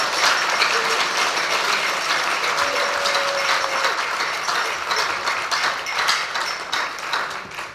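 Sustained, dense applause from an audience at the Ghana Premier League partnership launch, a loud steady wash of clapping that runs unbroken through the whole stretch.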